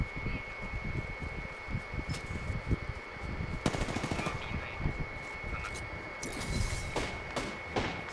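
Rapid video game gunfire crackles in dense, uneven bursts over a constant high electronic whine, with several sharper volleys standing out and loud shots continuing to the end.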